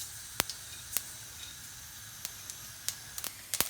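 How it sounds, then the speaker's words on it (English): Mustard seeds crackle in hot ghee with scattered sharp pops over a soft, quiet sizzle, the bursts coming irregularly and close by. "In goes the mustard seeds."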